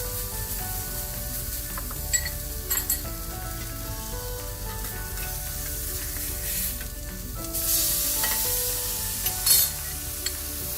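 Burger patty and onions cooking on a barbecue grill give off a steady, close sizzle with soft crackles throughout, a brief hissy flare near the end, and no talking.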